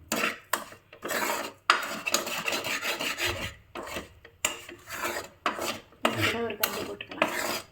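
Flour being stirred as it roasts in a pan, a spoon repeatedly scraping and rasping against the metal in uneven strokes with short gaps between them, close by and fairly quiet.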